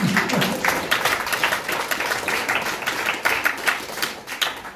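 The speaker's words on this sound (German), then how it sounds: "Jetzt kriegst du einen riesen Applaus von uns." Applause from a group at a seated hand-clapping dance session, a dense burst of claps filling the moment at steady loudness before fading slightly.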